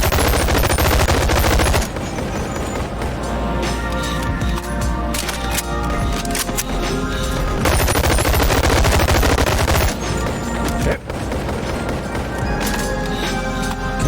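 SMG gunfire in a VR shooter game, rapid loud bursts of automatic fire repeating in long runs with short breaks between them, close and dense.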